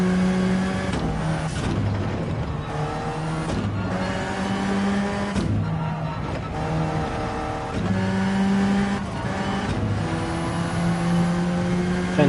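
Ferrari race car in Gran Turismo 7 screaming at high speed through medium and high speed turns, its engine note rising and dropping with repeated upshifts and downshifts, loud and continuous throughout.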